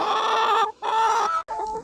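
Chickens cluck and squawk in three close bursts separated by brief pauses, loud and near, in an alfalfa field.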